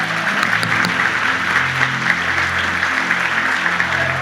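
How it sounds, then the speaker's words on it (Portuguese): A church congregation claps together in sustained, fairly loud applause, a dense patter of many hands holding steady throughout. "Dá uma salva de palmas para o Senhor"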